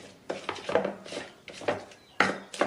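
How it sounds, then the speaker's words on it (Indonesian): Fresh tomatoes roughly crushed with a stone mortar and pestle (ulekan) for sambal: a handful of irregular wet, knocking grinds of stone on stone, close up with no talking. "ini mau kita ulek tapi cuman asal dibejek aja"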